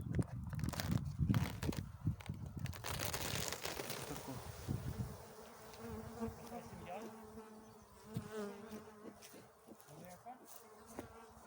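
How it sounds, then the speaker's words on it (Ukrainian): Honeybees buzzing close by at a hive, a dense droning hum with scattered thumps and rustles, louder at first then settling into a softer steady buzz. "Бджоли сьогодні набагато активніші, ніж вчора."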